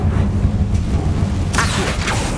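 Confringo fire spell blasts in Hogwarts Legacy, a rumbling boom bed with a sharp burst hitting about two-thirds through, loud and close.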